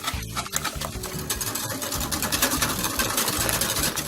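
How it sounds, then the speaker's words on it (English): Steady, rapid whisking of soft drink with a can of sweetened condensed milk for a two-ingredient ice cream, a close, continuous rhythmic rattling of the whisk against the bowl with no talk. "Now just whisk this together until it's well combined."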